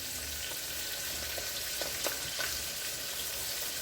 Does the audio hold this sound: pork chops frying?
yes